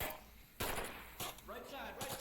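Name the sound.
gunfire from the video game Onward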